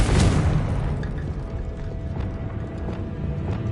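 Confringo fire spell blast in the Hogwarts Legacy video game: an initial loud burst at the start, followed by a sustained rumbling, crackling wash that holds steady with scattered clicks and a faint tonal hum.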